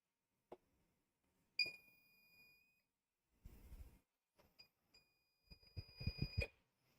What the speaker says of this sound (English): Now let's see if we turn this on, it should beep at me and it should have some kind of power.